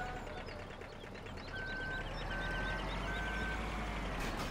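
A small Bucher TRL2600 municipal truck idles in Farming Simulator 17 with a steady low engine rumble, while a series of evenly spaced reversing beeps rings out above it.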